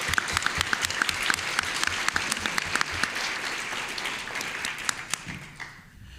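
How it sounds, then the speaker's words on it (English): A crowd applauds steadily and loudly throughout, dense clapping that tapers off slightly near the end. "So I just want to give Mark a round of applause."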